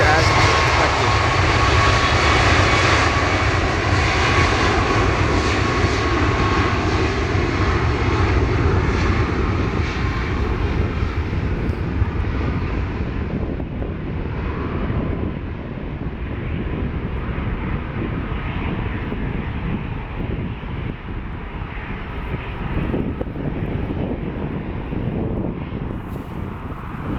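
Airliner departing Portland airport, its engines roaring loud and broadband as it powers away, the heavy rumble slowly easing over nearly half a minute with wind buffeting the microphone.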